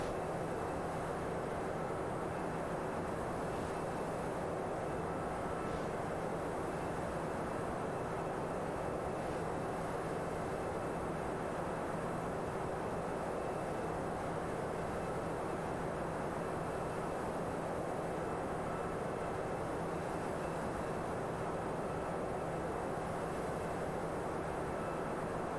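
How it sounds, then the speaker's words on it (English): Steady, even drone of a Toliss A321 airliner's engines in cruise flight in X-Plane 11, a constant low roar with a faint tonal hum, unbroken and without speech. "we'll go ahead and let the aircraft continue its inbound flight"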